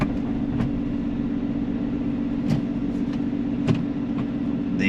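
Supercharged Lotus Emira with a 6-speed manual gearbox driving along, a steady low engine drone and road rumble with a few faint brief clunks, no voices.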